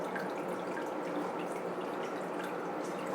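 Water circulating through a tube in a bonsai pot tank, a soft, steady trickle and gurgle with faint drips, quiet and continuous with no voices.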